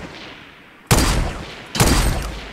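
Two sudden bursts of automatic gunfire spray in Fortnite Battle Royale, each a dense rattling volley lasting under a second, close and loud, with the first volley opening on near silence.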